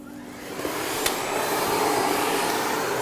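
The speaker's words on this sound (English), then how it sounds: "Once the brush is clicked into position, you can start vacuuming." A Miele Blizzard CX1 vacuum cleaner with a parquet brush fitted, running over a hard parquet floor: a steady, loud, close motor roar that builds up in the first half second and then holds with a broad airy whoosh.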